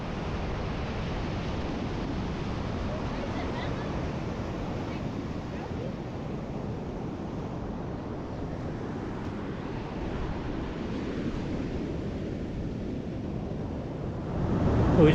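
Steady ocean surf washing onto a beach along a coastal track, a continuous broad roar with some wind noise, swelling louder near the end.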